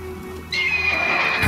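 Roach, the horse in The Witcher 3 video game, gives a single drawn-out whinny, loud and close, over a steady low game ambience with no talking.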